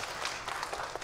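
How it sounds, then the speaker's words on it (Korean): A church congregation claps at a Sunday service, a short burst of brisk, uneven applause filling the room. "박수 또 한번 쳐주세요"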